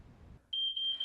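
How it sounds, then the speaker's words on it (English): A high, steady electronic beep from a smoke alarm starts partway through and sounds continuously and loudly, following a brief stretch of low background rumble. "The most important piece of equipment in your home is your smoke alarm"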